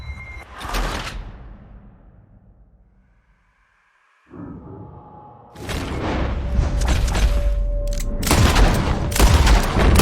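Gunfire in Red Dead Redemption 2 arrives as loud, sharp bursts and booms, one early blast fading into quiet, then a dense volley of shots and impacts crowding the final seconds.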